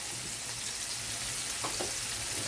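Three or four cloves of chopped garlic fry in oil in a pan with a steady, dense sizzle close by, broken near the end by a couple of faint stirring scrapes, with no talking.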